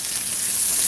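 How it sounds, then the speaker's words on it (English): Scallions hit a hot frying pan and sizzle steadily and up close, a dense, even frying hiss with no talk over it. "I'm adding in some scallions."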